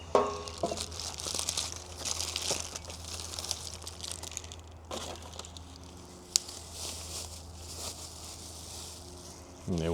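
Bubble wrap, cardboard and heavy tape packaging around a Ferguson tractor fuel system part being torn open and unwrapped, a steady close crinkling and rustling with a few sharper rips and crunches.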